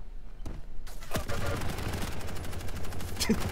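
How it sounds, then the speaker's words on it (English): Rapid continuous machine-gun fire in the arena shooter Quake Champions, a dense unbroken rattle that may be a looping audio glitch, loud and steady throughout with a few sharper shots standing out. "That's an interesting audio bug. Or maybe he's just constantly a machine gun now."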